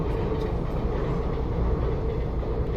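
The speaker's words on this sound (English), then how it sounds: "we waited patiently for 5 trains to pass before the gates opened" A train rumbling past a railway level crossing in Bhedaghat near Jabalpur, a heavy, steady low roar of rolling wagons, close and loud, with no talk.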